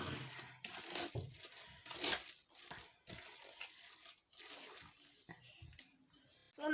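Water is poured into cassava flour to make fufu, a broad splashing, running-water wash with crinkly stirring and scraping sounds that rises and falls in bursts, close and fairly loud throughout.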